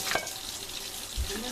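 Bacon frying in a pan, a soft, continuous sizzle with a couple of faint knocks, heard quietly and up close.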